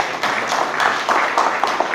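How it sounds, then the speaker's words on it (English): An event audience claps for Ms. Priyanka Chaturvedi at a birth anniversary function, a brisk, moderately loud burst of hand claps with slight surges over two seconds, no voices over it. "May I have a big round of applause for Ms."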